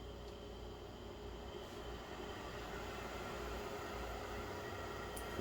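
A Mooka HEPA air purifier fan runs on its medium setting, giving a steady, broadband whooshing airflow hum that stays even and unbroken throughout, with no voices.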